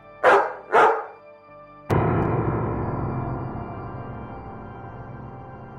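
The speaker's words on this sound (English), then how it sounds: "plunged into a sea of freezing, pestilent rain under the watchful eye of Cerberus, a 3-headed dog." Cerberus, the three-headed dog in the Dante's Inferno video game, lets out two loud, separate barking growls, followed by a deep booming rumble that slowly fades out.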